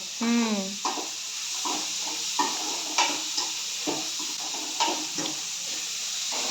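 Soya chunks frying in a pan with turmeric, chilli powder, salt and ginger-garlic paste give a steady close sizzle and hiss, broken by regular scraping stirs, with a voice briefly at the start.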